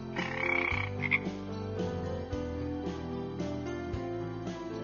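Frogs croak in a steady, repeating chorus, loud and close, with a brief high trill at the start.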